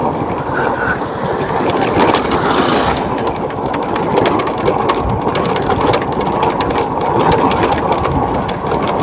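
A small automatic motor scooter engine hums steadily and fairly loud while riding downhill on a road toward Daraitan in Tanay, Rizal, with constant rough wind and road noise.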